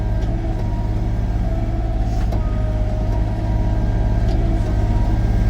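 A mini excavator engine runs steadily while grading a gravel road, a constant loud diesel drone and rumble with faint mechanical clanks, no talk.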